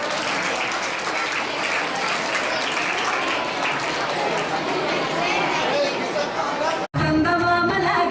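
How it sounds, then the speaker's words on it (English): An audience at a school Children's Day program claps to welcome a 7th-grade dance team, a steady roar of many hands under crowd chatter that cuts off sharply as music starts. "Please welcome them with your clap."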